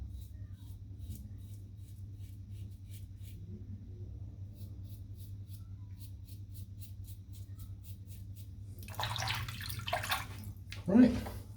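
Shaving water draining out of a bathroom sink after a lather shave, a gurgling, splashy rush near the end over a steady low hum.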